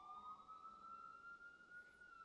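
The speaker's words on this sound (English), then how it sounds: "Comes another siren." Outside, an emergency vehicle siren wails as it passes, a faint but steady rising tone that holds for over two seconds against a low background hum.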